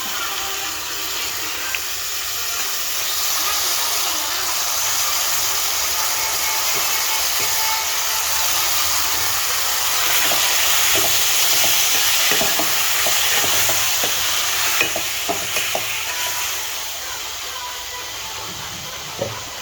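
Squid pieces sautéed in a hot pan for a Tamil-style squid gravy, a steady loud sizzle and hiss with scraping stir strokes throughout, no talking.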